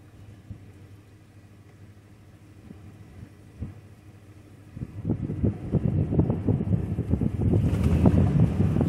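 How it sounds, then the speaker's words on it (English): Cold wind at the Tellico River Gorge buffets the microphone in low rumbling gusts, faint at first and growing louder and rougher after the halfway point. "It is windy and cold"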